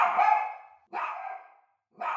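A dog barks three times up close, each bark sharp and separated by a brief silence, with no other sounds around it.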